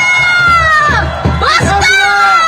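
A crowd at a university students' rally against a presidential impeachment in Korea lets out loud, rising cheers and shouts, with high voices swelling and falling in a couple of bursts close by.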